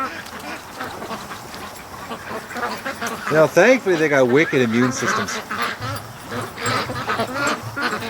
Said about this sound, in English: the ducks are just drilling in the mud